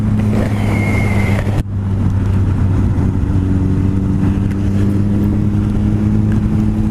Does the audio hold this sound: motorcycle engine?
yes